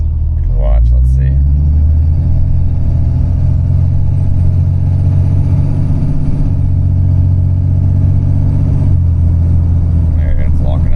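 Ram truck with a 68RFE transmission running steadily with a low rumbling engine drone as the torque converter locks and slips, pitch shifting slightly mid-run; loud and continuous, with brief speech near the start.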